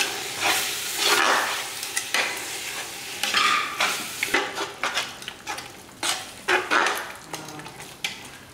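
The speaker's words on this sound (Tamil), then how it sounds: "நல்லா தக்காளி இதெல்லாம் நல்லா வதங்கட்டும்" Tomatoes sauté for seeraga samba mutton biryani, a close sizzle under repeated rhythmic scrapes and knocks of a spoon stirring the pan, loud and steady, with no talking.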